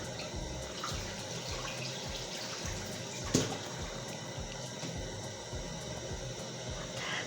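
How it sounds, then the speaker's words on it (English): Steady rushing water runs throughout, a continuous splashing flow as rinse water drains off washed potatoes, with one brief clatter midway. "I want to drain the water."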